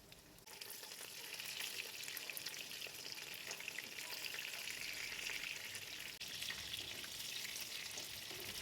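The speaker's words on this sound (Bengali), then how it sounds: "এবার ম্যারিনেট করা চিকেনগুলোকে আস্তে আস্তে করে ভেজে নেব।" Marinated chicken frying slowly in white oil in a hot frying pan, an unbroken close hiss and crackle that swells just after it starts and holds steady, with no one speaking.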